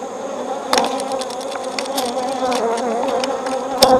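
Honey bees buzz loudly and continuously inside an open hive during a winter inspection after the colony swarmed, a dense close droning hum with occasional sharp knocks and clicks from handling frames and no voices.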